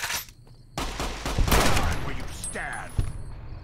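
Gunfire from Fallout: New Vegas, set among the White Legs in the Honest Hearts add-on, with loud sustained shots and bursts running through the clip and a sharp crack near the end, heard under faint game sounds.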